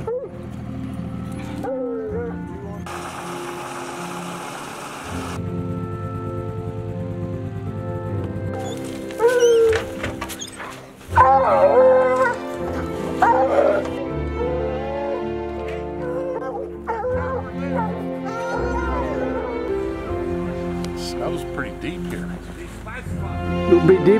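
Hunting dogs bark and bay intermittently at middle distance on a January mountain lion hunt, mixed with people talking and a burst of rustling noise early on.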